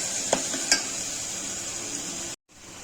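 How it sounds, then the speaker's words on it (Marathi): Spices stirred into onion and tomato in a pan for a jackfruit seed dish, with a steady soft sizzle and two light scraping knocks of the spoon, then a brief dropout before the frying hiss resumes. "हे सर्व मिक्स करून घ्यायचं आहे"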